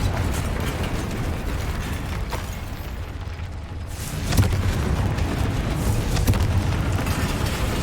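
Spell explosion from Confringo in the Hogwarts Legacy video game, a dense booming burst with a louder low thump partway through over continuous game noise, no talking.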